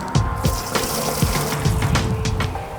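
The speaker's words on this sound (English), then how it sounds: "We have a bucket of water, fill it up." Water pours and splashes steadily into a bucket, a close, continuous gushing with small sloshing bursts.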